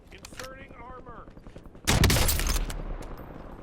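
A single loud Kar98 sniper rifle shot in Warzone bursts out midway, with a long booming tail rolling on afterward, preceded by quieter game sounds and a faint voice.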